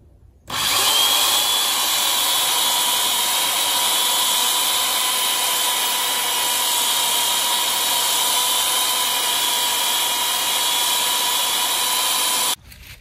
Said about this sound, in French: Vous voyez, le bois est brut. Alors, il faut le poncer.